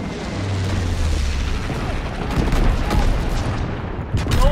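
Bomber airstrike explosions in the World War II shooter game Call of Duty: WWII, a loud, continuous barrage of deep booms and crackling blasts that rumble without pause, with a fresh burst near the end.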